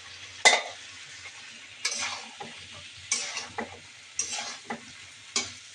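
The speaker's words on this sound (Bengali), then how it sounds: "মাছগুলো ভেজে নিচ্ছি ডিমের জন্য" Fish frying in a pan for a home-cooked lunch: a steady soft sizzle with repeated scraping stirs of a utensil against the pan every second or so, close and clear, no talking.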